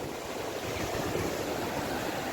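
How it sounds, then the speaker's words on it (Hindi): Ocean waves wash onto a beach in Tanzania as a steady, broadband roar of surf, with some wind noise on the microphone and no talking. "समुंदर का पानी देखो"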